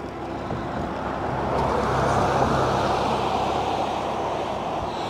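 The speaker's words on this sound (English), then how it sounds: "That's a pool maintenance truck right there." A pool maintenance truck drives past on a residential street, its engine and tyre noise a steady, loud broadband roar that swells slightly mid-pass, heard from a bicycle with no talking.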